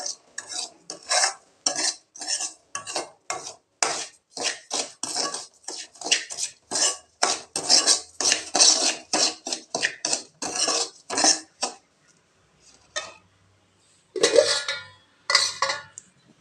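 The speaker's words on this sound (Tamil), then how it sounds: "இந்த நெய்யிலேயே ஒரு கிளறிக்கலாங்க" A spoon scrapes and clinks rhythmically against a pan while stirring already-roasted rava in ghee, a run of sharp metallic strokes that pauses briefly and then resumes.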